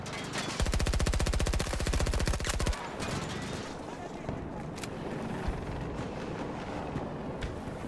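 Rapid automatic gunfire from a vehicle in the video game Battlefield 2042 rattles loudly for about two seconds, then gives way to a dense rumbling battle soundscape with scattered distant shots and impacts, under the player's talk.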